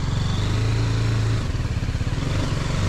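A vehicle setting off on a road on a trip from Kanyakumari to Munnar, its engine a loud, close, steady rumble with a slight rise in pitch as it pulls away.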